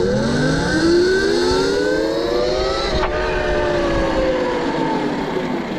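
A WindOne RM7 electric vehicle accelerates at full throttle in wheelie mode, its motor whine rising steadily in pitch and then dipping briefly before climbing again, loud and close.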